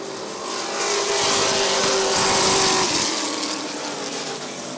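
Sportsman race cars at Rockford Speedway during an eight-lap heat race, a loud roaring pack of engines swelling past and fading, with a high engine whine sustained through the middle.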